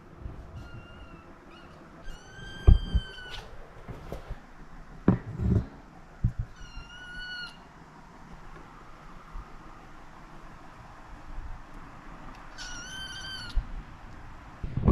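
Several distinct cat meows, high and wavering, come at intervals amid scattered thumps and clatter in a quiet car-building shop.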